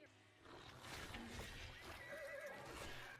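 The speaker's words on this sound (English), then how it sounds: "Oh my god, it's a horse and monkey." A cartoon horse-monkey mutant lets out a loud, close neigh, a wavering whinny lasting a couple of seconds over a noisy background.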